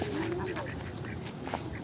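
Chinese ducks quack in a short, busy burst over steady background noise, close by and fairly loud.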